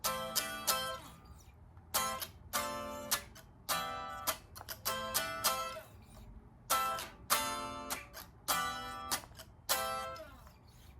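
An acoustic guitar strums short chords in a repeated pattern, with quick hammered notes ringing between strums, fairly quiet and close.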